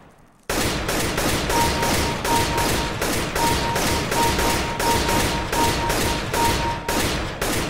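Rapid, continuous gunfire from a CS:GO aim-training map, loud shots packed into a dense fusillade that runs almost unbroken after a brief quiet start, with a faint steady electronic tone underneath.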